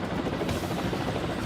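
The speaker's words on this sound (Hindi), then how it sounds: "समंदर के ऊपर आसमान में कैमोव का 27M एंटी सबमरीन हेलीकॉप्टर दिख रहा है।" A Kamov Ka-27M anti-submarine helicopter flying over the sea, a continuous rumbling rotor and engine drone with a steady throbbing texture, heard alone at a constant level.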